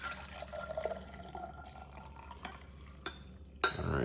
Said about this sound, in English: We're gonna pour the hot liquid inside of the Yeti tumbler.